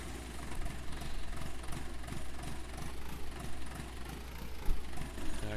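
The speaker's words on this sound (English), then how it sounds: "this tractor is fabulous. Listen to that thing." An old tractor engine in Farming Simulator 19 idles with a steady low chugging rumble and rhythmic knocking pulses, moderately loud and continuous with no talking.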